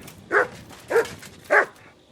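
Three evenly spaced, mid-loud dog barks from the game Kingdom Come: Deliverance II ring out alone over faint background ambience.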